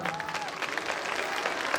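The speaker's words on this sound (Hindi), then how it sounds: "इस पर कम से कम माताओं की तरफ से जोरदार तालियां आ जाए एक बार।" Audience applause at an annual school function's poetry recital, a steady wash of many hands clapping together, moderately loud and continuous, with some faint voices mixed in.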